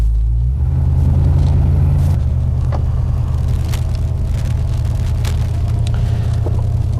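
A Mustang hardtop converted into a convertible out on a test drive: steady low engine rumble and road noise from inside the car, with a slight shift in engine tone early on, continuous and close.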